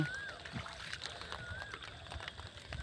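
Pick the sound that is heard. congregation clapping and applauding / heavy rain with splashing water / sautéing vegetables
heavy rain with splashing water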